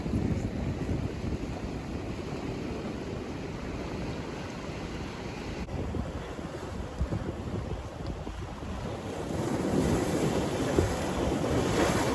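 Waves wash steadily onto an Irish shore with continuous surf noise, wind buffeting the microphone, and a swell in intensity toward the end.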